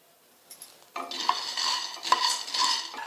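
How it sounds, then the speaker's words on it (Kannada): Peanuts roasting in a dry pan are stirred with a metal spoon, giving steady scraping and rattling that starts after a second and continues closely, with a few sharp clinks against the pan. "ಇವು ಶೇಂಗಾದ ಕಾಳು ಹುರ್ಕೋಬೇಕ್ರಿ"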